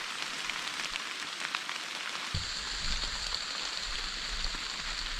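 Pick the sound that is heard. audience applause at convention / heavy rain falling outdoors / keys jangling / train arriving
heavy rain falling outdoors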